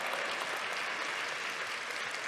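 A church congregation applauds during a sermon, a dense, even patter of many hands clapping that holds steady throughout with no talk.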